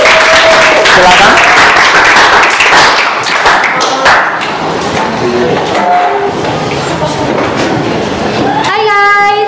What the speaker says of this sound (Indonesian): kita kasih tepuk tangan yang luar biasa untuk kelompok 3